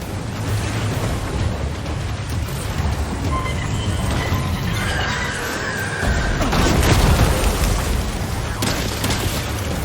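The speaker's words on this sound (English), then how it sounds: "That one seems to have done some damage. The shotgun's nice." Heavy booming shotgun blasts from the video game Death Stranding 2, fired in combat, loud and close with dense low-end impacts, a stronger burst around the middle of the clip.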